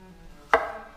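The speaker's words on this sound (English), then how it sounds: "Let's start with cutting the peppers." A single sharp knife chop through peppers on a cutting board, close and crisp, alone in an otherwise quiet kitchen.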